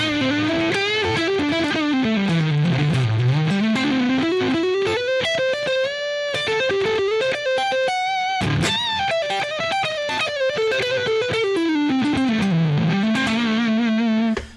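An electric guitar played through three distortion pedals chained in a row, with heavily saturated, buzzing phrases that sweep up and down in pitch, loud and continuous, and a brief noisy burst in the middle.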